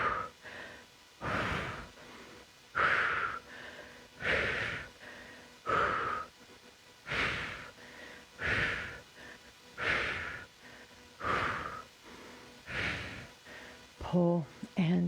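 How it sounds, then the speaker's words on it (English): A person exhales while pulling a flat resistance band during an exercise set: about ten close, rhythmic breaths, each a strong puff lasting roughly a second, evenly spaced with brief quiet gaps. "So we exhale as you pull"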